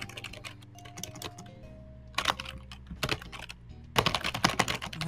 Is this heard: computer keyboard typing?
yes